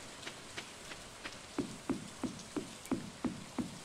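Rain falling in the video game Stardew Valley, a steady soft patter with a regular series of light knocking taps, fairly quiet and with no voices.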